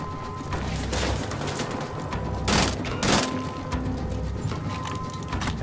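Burst-fire gunfire in the shooter game Wolfenstein: The Old Blood: a few sharp, loud bursts stand out over a steady, busy backdrop of game noise and rumble.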